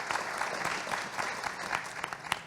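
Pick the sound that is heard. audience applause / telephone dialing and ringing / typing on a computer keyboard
audience applause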